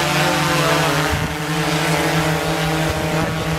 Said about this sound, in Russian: Это наш коптер!